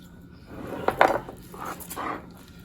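Knife cutting pork ribs into St. Louis style, a few sharp scraping clicks and knocks as the blade hits bone on a board, close and quiet, no talk.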